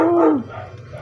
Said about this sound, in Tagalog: Ang ingay ng mga aso ko guys.